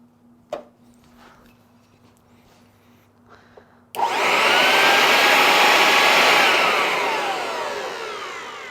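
Workshop dust collector switching on partway through, jumping from near quiet with a faint knock to a loud, steady broadband roar and whoosh of airflow that holds close and constant to the end.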